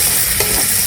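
Spice masala stirred with ghee in a hot pan, a brief steady frying sizzle with a faint scrape of the spoon, close up.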